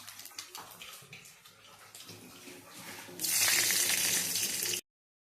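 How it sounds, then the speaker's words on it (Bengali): Nigella seeds and two green chilies hit hot oil for a bean and potato curry. Soft kitchen clatter comes first, then a loud, close, hissing sizzle bursts in and holds steadily until it stops abruptly. "আমি এখানে কালো জিরে ফোড়ন দিলাম আর দুটো কাঁচা লঙ্কা দিয়ে দেবো"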